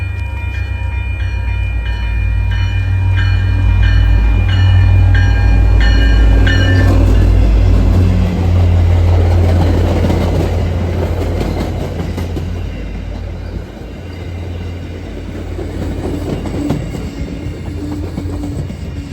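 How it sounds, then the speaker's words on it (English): MBTA outbound commuter train pulling into North Wilmington station, loud and close with a steady engine roar, clattering wheels and a sustained horn-like tone early on, easing slightly toward the end with no voices. "an MBTA outbound is now arriving in the North Wilmington."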